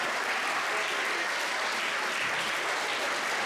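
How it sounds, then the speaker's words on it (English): Schoolchildren and adults clap together in a steady, even round of applause from a school audience, sustained and fairly soft. "Ladies and gentlemen, a quick round of applause for Simon now"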